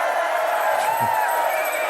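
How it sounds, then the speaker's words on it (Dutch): A festival crowd at an outdoor station celebration in Roermond cheers and claps for a Limburg carnival performer, a busy, fairly loud roar of voices and whoops with a brief shout rising out of it. "Heel graag applaus voor"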